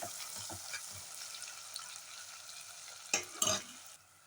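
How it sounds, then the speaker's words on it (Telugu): Onions and curry leaves fry in a pan with a faint steady sizzle, broken by a few stirring scrapes and louder utensil knocks near the end. "ఈ ఉల్లిపాయ కొంచెం ఫ్రై అవ్వగానే అల్లం వెల్లుల్లి పేస్ట్ వేస్తాము"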